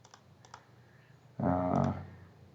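A computer mouse clicking on an online application form: two soft, quick double clicks, followed by a short, louder humming tone, all quiet and close.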